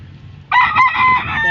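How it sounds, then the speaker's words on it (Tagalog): A rooster crows loudly and close by, a single rising, strained call with clucking around it, over faint yard background. "Pari manok."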